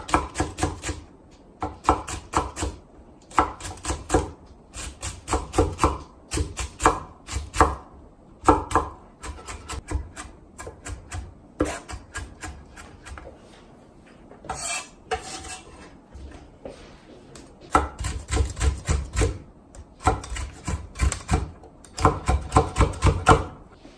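Knife chopping finely on a cutting board as cheongyang chili peppers are minced, with rapid bursts of close, sharp taps broken by short pauses, no talking.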